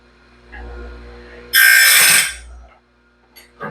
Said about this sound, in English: I'm going to use the rock that reprofiles the whole gullet